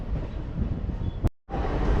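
Train pulling out of Banihal station toward Srinagar in Kashmir, a steady low rumble of rail noise that cuts out abruptly for a moment before resuming; no talking.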